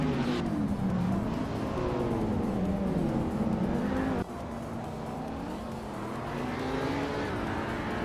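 A 2014 McLaren 650S and rival race cars in a racing video game launching off the start line, loud engines rising in pitch through gears, with a sharp shift midway and a steady roar afterward.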